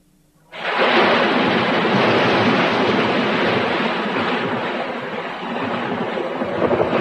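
Cartoon wind roars steadily over open sea as a storm approaches, a loud broadband rush with surf-like swells that starts abruptly and holds for several seconds, with no voices.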